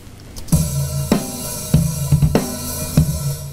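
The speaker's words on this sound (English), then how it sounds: "That's the sound of the drum kit naked, with no EQ and compression on it, no reverb." A dry, unprocessed drum kit with no EQ, compression or reverb plays a simple beat of kick, snare and hits, close and punchy with no ambience.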